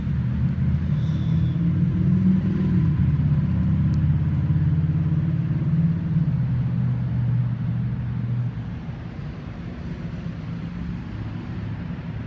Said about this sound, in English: I don't know if you can hear me with all of the hubbub of the traffic.